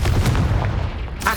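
The Confringo blasting spell in Hogwarts Legacy lets out a loud booming burst of fiery explosion that rumbles and decays over about a second, with crackling debris at the end.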